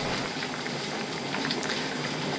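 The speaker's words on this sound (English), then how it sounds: "my canner is going at a full rolling boil" A water-bath canner at a full rolling boil gives a dense, steady bubbling and hissing roar, close and continuous without pause.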